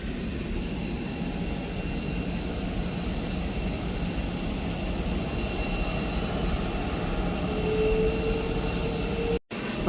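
Aircraft jet engines on the apron at Punta Cana airport's Terminal B give a steady, loud, continuous roar with a high whine for about ten seconds, no voices.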